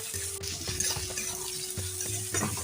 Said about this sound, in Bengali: দেখো সবজিটা বেশ কিন্তু ভালোভাবে ভাজা হচ্ছে